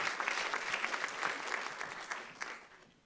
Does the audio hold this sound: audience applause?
yes